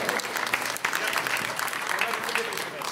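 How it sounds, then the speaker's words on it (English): An audience at a convention stage show gives a lively round of applause, dense clapping with a few sharper claps standing out, continuous and fairly close. "Another round of applause."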